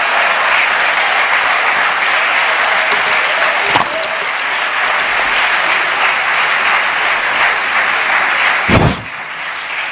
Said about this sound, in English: Can we have a big round of applause for Mazi Okonu, the co-founder of Recycle Po